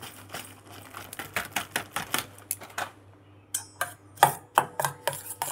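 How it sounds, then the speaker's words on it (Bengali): Potato chips tipped into a bowl of beaten batter in a home kitchen, giving a string of crisp, clattering crunches and rattles in uneven bursts, close and fairly quiet, with no talking. "চিপস দিয়ে দিচ্ছি এর মধ্যে।"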